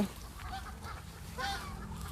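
Ducks on a Thai home farm, roughly fifty birds, giving a few short nasal quacks and honks at moderate distance over a quiet outdoor background.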